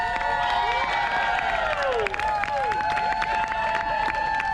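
Crowd cheering and scattered clapping from an outdoor audience at a Renaissance festival comedy juggling show, steady and fairly loud throughout, with shouts and whistles rising over a continuous murmur of voices.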